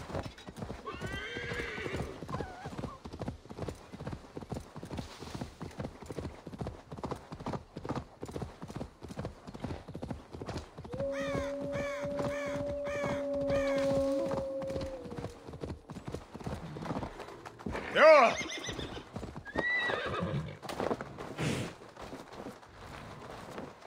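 A horse in Assassin's Creed Valhalla gallops with steady, rapid clip-clop hoofbeats, breaking into a loud whinny midway and another sharp neigh near the end, with brief game sounds around it.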